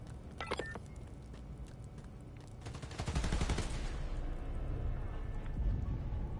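Rapid automatic gunfire bursts in Spider-Man: Miles Morales rattle near a power station, starting faint and growing into a loud, sustained volley of shots.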